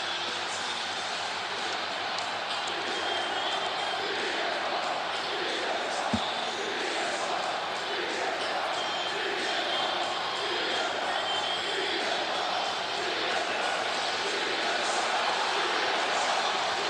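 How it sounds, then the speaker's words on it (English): A Chicago arena crowd in the WWE 2K24 video game roars steadily for its hero, a dense, sustained cheer filling the scene at constant loudness, with one brief sharp thump partway through. "we can hear the reception from the Chicago crowd for their hero, CM Punk"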